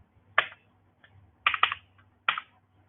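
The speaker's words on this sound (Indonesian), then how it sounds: "Kalian bisa ketikkan AWK" Computer keyboard keys are tapped in short irregular bursts, a single stroke then quick clusters of two or three, close and crisp against near silence, as an awk command is typed in a Linux terminal.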